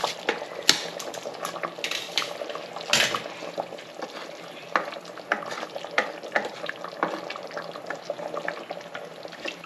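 Rice being stirred into mutton biryani in a pressure cooker: a steady stream of close, loud scraping and clicking spoon strokes with a wet, bubbling sizzle underneath, heard with no talking.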